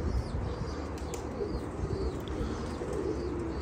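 Pet birds coo softly at close range, low and faint, with a few light flutters and no talking.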